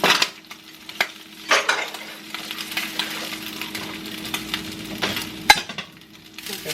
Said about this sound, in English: Just let that fry up a little more